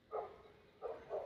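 A dog named Onyx gives three short barks close by, each a quick separate yap with a short gap before the last two, alone with no talk.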